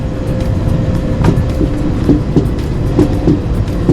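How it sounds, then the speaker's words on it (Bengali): A night train pulls out of Bagnan, making a loud, close, rumbling roar with rhythmic clacks and knocks from the wheels and carriages, and no voices. "ট্রেন ছেড়ে দিল"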